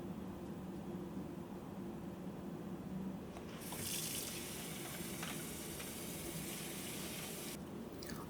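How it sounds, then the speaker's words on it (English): A tap runs steadily as rice and quinoa are washed in a kitchen, a soft continuous stream of water that swells briefly in the middle, with no talking. "Wash the rice and quinoa with water until the water runs clear."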